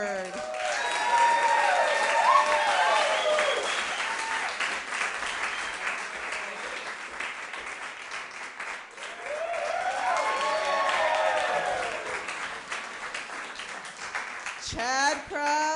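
Warm audience applause and cheering fill a comedy stage as two improv performers are introduced, sustained and dense for most of the stretch while voices talk over the clapping.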